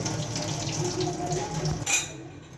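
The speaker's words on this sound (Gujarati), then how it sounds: "બે ત્રણ વાર આપણે તેને આવી રીતે પાણીમાં ધોશું" Water runs and splashes steadily as potatoes are swished and rinsed in a sink, close up, with a brief louder splash near the end.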